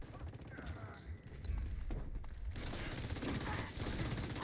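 Machine gun fire in The Division 2, a loud sustained burst of rapid automatic shots with heavy booming impacts, continuous and close, over game effects.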